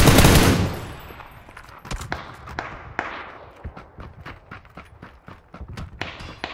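Gunfire in PLAYERUNKNOWN'S BATTLEGROUNDS, a loud blast followed by a rapid irregular series of sharp shots, some closer and some fading, with a low game rumble underneath.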